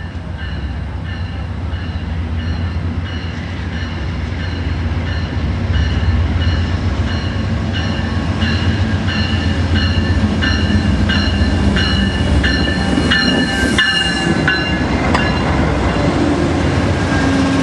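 The Coast Starlight passenger train rolls slowly across a trestle into San Luis Obispo, a loud continuous rumble with rhythmic wheel clatter and high metallic squeals from the wheels, heard from on board with no talking.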